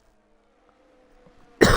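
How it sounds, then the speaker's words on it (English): One short cough breaks out abruptly at the end of a quiet stretch, close and fairly loud, from a commentator during an F1 league racing game broadcast, with no talking. "We also have a bit of cough"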